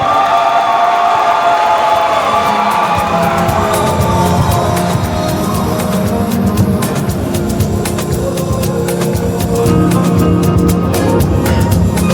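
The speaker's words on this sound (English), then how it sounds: "A round of applause for your first speaker from the Faculty of Veterinary Medicine." An audience at a faculty debate competition bursts into sustained, loud applause with some cheering, a dense crowd sound that runs unbroken from start to finish.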